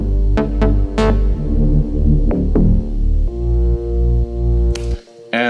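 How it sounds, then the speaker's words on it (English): Layered synth bass parts play together in an electronic track, a thick throbbing, distorted drone with several sharp hits dancing over it, loud and close before cutting off abruptly at the end. "And then with all the bass layered together,"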